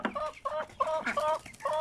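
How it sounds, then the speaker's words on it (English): Chickens cluck in a quick run of five or six short, close, nasal calls, fairly quiet and heard alone. "I can hear them clucking away, ready to come out."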